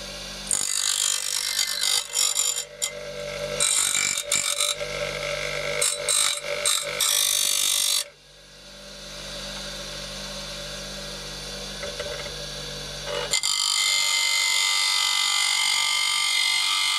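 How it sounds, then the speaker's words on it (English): A power tool grinds filler down on a BSA motorcycle engine shroud, a loud, harsh whine that cuts in and out in bursts, pauses to a low hum midway, then resumes steadily, close and without talk. "so I just need to grind it down now, and that should be ready for primer and repaint"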